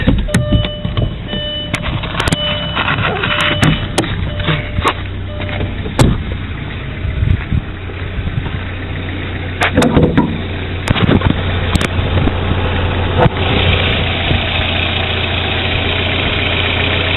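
A 1999 Volkswagen Passat with an automatic transmission and a turbo engine runs loud and near as it backs up, giving a steady idling hum with a few faint clicks and knocks. No voices are heard.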